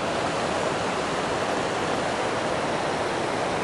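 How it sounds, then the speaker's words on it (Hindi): Canal water rushing steadily past at full strength, a continuous broadband roar with no pauses, close and loud, with no voices over it. "यो देखो जी पानी इतना बग के चला है"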